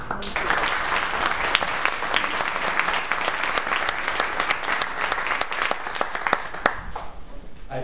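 Audience applause fills a lecture hall at a university keynote on transition, steady and dense for the whole stretch with sharp individual claps standing out, no speech over it.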